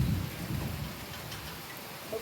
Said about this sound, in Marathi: पुण्यामध्ये जोरदार पाऊस पडतोय,